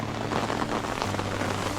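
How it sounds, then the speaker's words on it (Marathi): Steady rain falls across the whole short stretch in a Ratnagiri village during paddy planting season, a dense, even patter of drops on surfaces, fairly close and continuous with no voices over it. "आता पाऊस आला"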